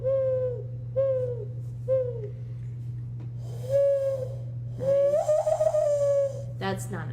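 A person imitates an owl with a voice, making a series of breathy, falling hoots that sound more like a dove's coo. Each hoot is separate, and a steady low hum runs underneath.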